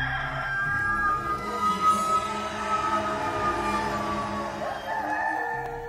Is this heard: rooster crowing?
yes